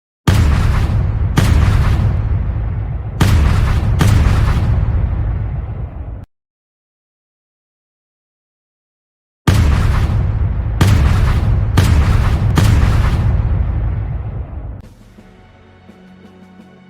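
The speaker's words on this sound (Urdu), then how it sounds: "شام کے وقت سلطان محمد نے شاہی توپوں سے حملہ کر کے جنگ کا نعرہ بجا دیا۔" Ottoman royal cannons fire on city walls in a series of loud, booming blasts: four close shots, several seconds of silence, then about five more in quick succession, fading into low rumble.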